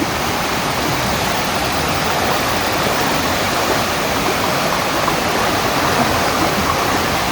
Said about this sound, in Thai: น้ำแรงมาก